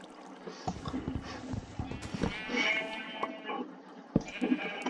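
Sheep bleat a few times in Minecraft against scattered clicks and thuds, fairly faint with a busy background.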